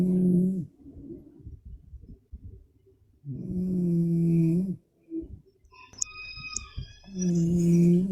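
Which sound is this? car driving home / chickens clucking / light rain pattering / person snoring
person snoring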